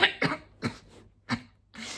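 Several short, harsh coughs in an uneven series, close to the listener, with brief quiet gaps between each burst.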